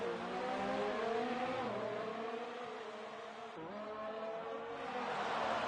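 F1 2019 race cars overtaking at the Hungary circuit, a sustained high-pitched engine whine rising and dipping as gears shift, steady and fairly loud with no talk.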